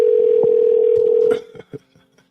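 Telephone number being dialed: a steady dial tone holds, then cuts off as a few distinct keypad beeps follow, close and clear with no talking.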